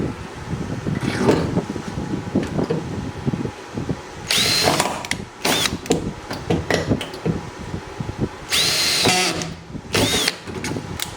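A power drill whirs and grinds in bursts, revving up and easing off as it bites through the metal under a car trunk, close and loud with clattering handling noises between.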